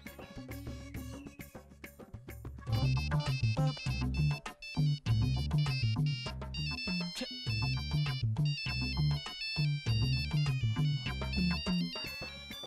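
A melodic mobile phone ringtone plays loudly and continuously, its bright electronic tune repeating with a steady beat and no voices.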